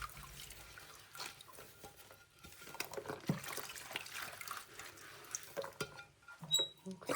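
Water runs and splashes in a kitchen sink during a quick wash, with dishes clinking faintly; a steady close running-water sound with some brief louder splashes near the end.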